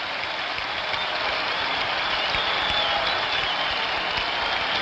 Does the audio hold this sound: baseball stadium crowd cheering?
yes